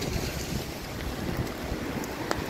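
Strong night wind in Porto, Portugal, with rain arriving, roars steadily and loudly across the microphone as a continuous broadband rush with gusty low rumble, near and unbroken, with a small click near the end.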